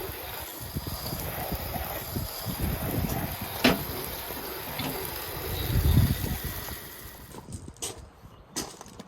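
Steady hiss of running water spraying against a caravan as it is rinsed with filtered water, continuous throughout with a few brief knocks and a louder surge partway through.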